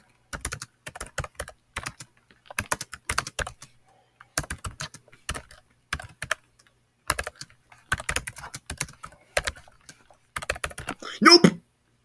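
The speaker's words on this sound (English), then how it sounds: "Just want to see how fast I can show you on typing." Rapid bursts of computer keyboard typing during an online typing race game, close and crisp, coming in clustered runs separated by short pauses, with no talking over it.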